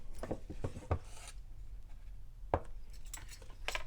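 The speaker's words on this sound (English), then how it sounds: "Now we're going to add a teaspoon of malt powder." Malt powder spooned into a banana milkshake, a teaspoon scraping and tapping against a container in a few quiet clinks and rubs, with one sharp tap partway through, close and alone in a hushed kitchen.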